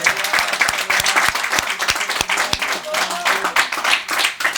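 A church congregation claps loudly for Jesus during a Spanish-language service, a dense burst of close applause with some sharp individual claps standing out, a few voices mixed in.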